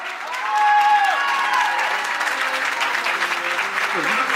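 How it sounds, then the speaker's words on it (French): Audience applause at an outdoor fashion show during a summer music festival in Péruwelz, Belgium, a steady broadband clapping that carries on throughout with voices and tonal sounds mixed in. "Donc on applaudit Martine très fort"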